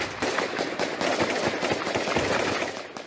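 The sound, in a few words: heavy gunfire during police assault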